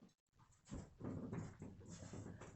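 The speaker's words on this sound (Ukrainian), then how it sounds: "вот этот рыжий пес" A red dog, eager for a walk, whimpers and pants in close, breathy bursts after a brief silence, with soft rustling and no clear speech.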